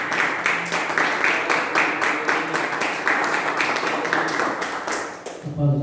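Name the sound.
church congregation applauding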